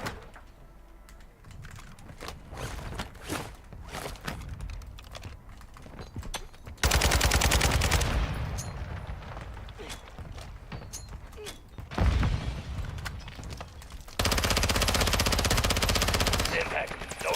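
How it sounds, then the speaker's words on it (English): Mortar strike explosions land in a video game match as loud, dense bursts of blasts and heavy rumbling, mixed with rapid gunfire and clicking, while a voice talks over the chaos. "Mortar strike inbound now"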